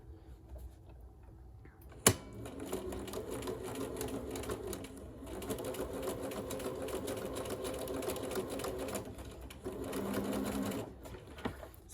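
A sewing machine stitches fabric in a continuous fast whirring rattle with brief pauses, close and clear, with a sharp click near the start and faint talk in the background.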